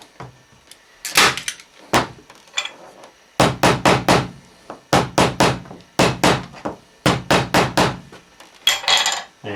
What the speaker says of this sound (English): Throw a couple of staples in there just to make sure that none of that wax thread comes undone.